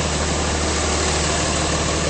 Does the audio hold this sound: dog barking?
no